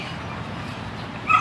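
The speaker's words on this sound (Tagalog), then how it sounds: "May mga aso din po." A dog on a farm also home to turkeys and ducks gives a single short yip near the end, rising briefly above a steady outdoor background hiss.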